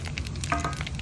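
Whole spices (cinnamon, bay leaf, mace, cardamom, cloves) crackling in hot oil for palak chicken, a soft steady sizzle close by with a brief clink, no voices.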